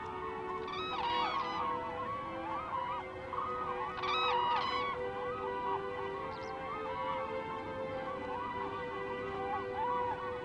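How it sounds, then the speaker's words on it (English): Cranes call at a marsh beneath monastery walls in Bhutan, a chorus of trumpeting, honking cries rising in bursts over steady background calling, fairly distant and continuous. "During the day, the cranes will feed in the surrounding fields"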